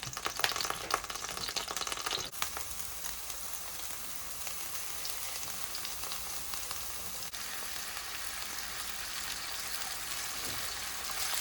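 Chopped onion and carrot soffritto sizzling in a pan, a dense crackling hiss that starts loud with a few sharp pops, then settles into an even, steady fry.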